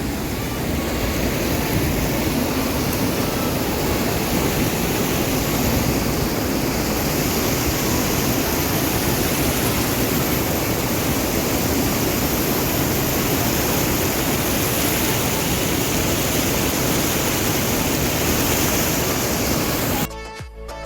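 The Putudi waterfall in Phulbani, Odisha, pours over rocks with a dense, unbroken roar that stays loud and steady for about twenty seconds before cutting off abruptly.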